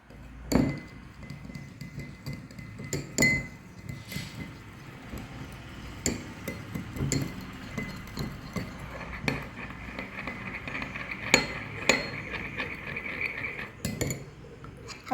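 Beeswax and beetroot juice lip balm mixture being stirred in a container, with repeated light clinks and scraping taps of the utensil against glass, steady and close throughout.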